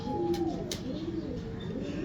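A breeder's pigeon gives soft, low, rolling coos that repeat steadily over a constant background hum, fairly close by, with no clear talking.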